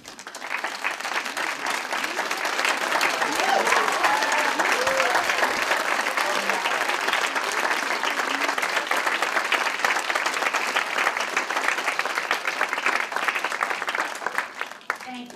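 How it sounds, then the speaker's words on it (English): Audience applause at a community gardeners' gathering as the garden coordinators stand, a steady dense round of clapping from a large crowd holding for about fifteen seconds before fading out. "Can I ask our community garden coordinators who are here today to stand for a round of applause?"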